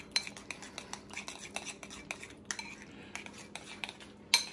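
Egg and protein powder batter being mixed in a bowl, with a utensil clicking and scraping against the sides in quick, irregular strokes, close and fairly quiet, with no talk.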